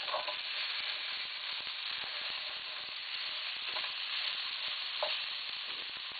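Onion being stirred into browned meat in a pot while making chili, a steady soft sizzle with scraping stirring strokes running throughout, close and continuous with no voices.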